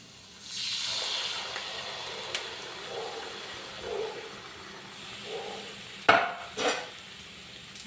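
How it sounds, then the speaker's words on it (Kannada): Kalthappa batter hits a hot pan over full flame and bursts into a sustained hissing sizzle that slowly fades, followed later by a couple of sharp metallic clanks of the pan. "ಚೆನ್ನಾಗಿ ಮತ್ತೊಮ್ಮೆ ಕಲಸಿ ಹಿಟ್ಟನ್ನ ಹಾಕಿ."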